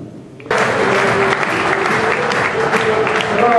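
An audience at a recreational association's sports presentation bursts into applause as athletes are called up. The clapping starts abruptly after a brief pause and stays dense and sustained, with a faint voice near the start.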